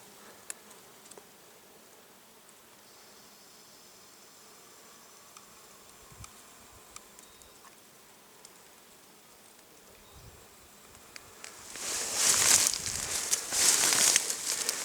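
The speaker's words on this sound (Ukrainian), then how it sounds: "Ви подивіться, скільки тут бджіл." Many bees and other insects buzz over flowering mint, a faint steady drone at first that grows into louder close passes near the end.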